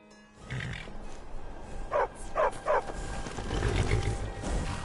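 A trained war dog in the video game Skyrim barks three times in a quick, evenly spaced series, sharp and fairly loud over a steady game-ambience background.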